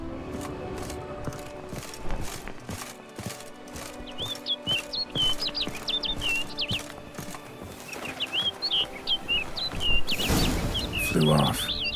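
A bird in The Witcher 3: Blood & Wine calls repeatedly in short chirping bursts over steady game ambience and background music, the calls coming in two clusters.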